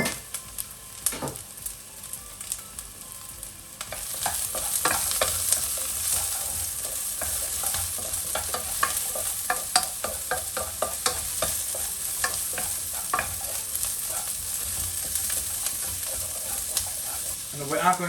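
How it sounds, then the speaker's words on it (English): Green pepper and carrots being stir-fried in a frying pan for Chinese home-style tofu, a steady loud sizzle with repeated scraping stirs of the spatula throughout, no talking. "Once you can smell the amazing fragrance come out of the frying pan, we are going to add in green pepper and carrots"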